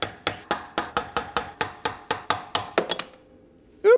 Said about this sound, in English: You have these caulkings here, which we need to push back with a chisel